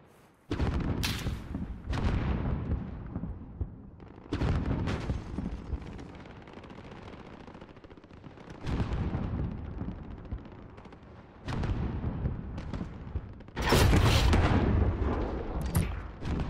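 Gunfire and explosions fill a Call of Duty: Modern Warfare battle, with repeated loud bursts of shots and booming blasts that come in waves across the whole stretch, close and dense.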